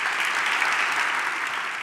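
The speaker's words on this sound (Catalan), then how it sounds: "Un aplaudiment." An audience at an adult-education conference in Barcelona applauds. The clapping is a full, even burst of many hands that stays steady and fairly loud throughout, with no speech over it.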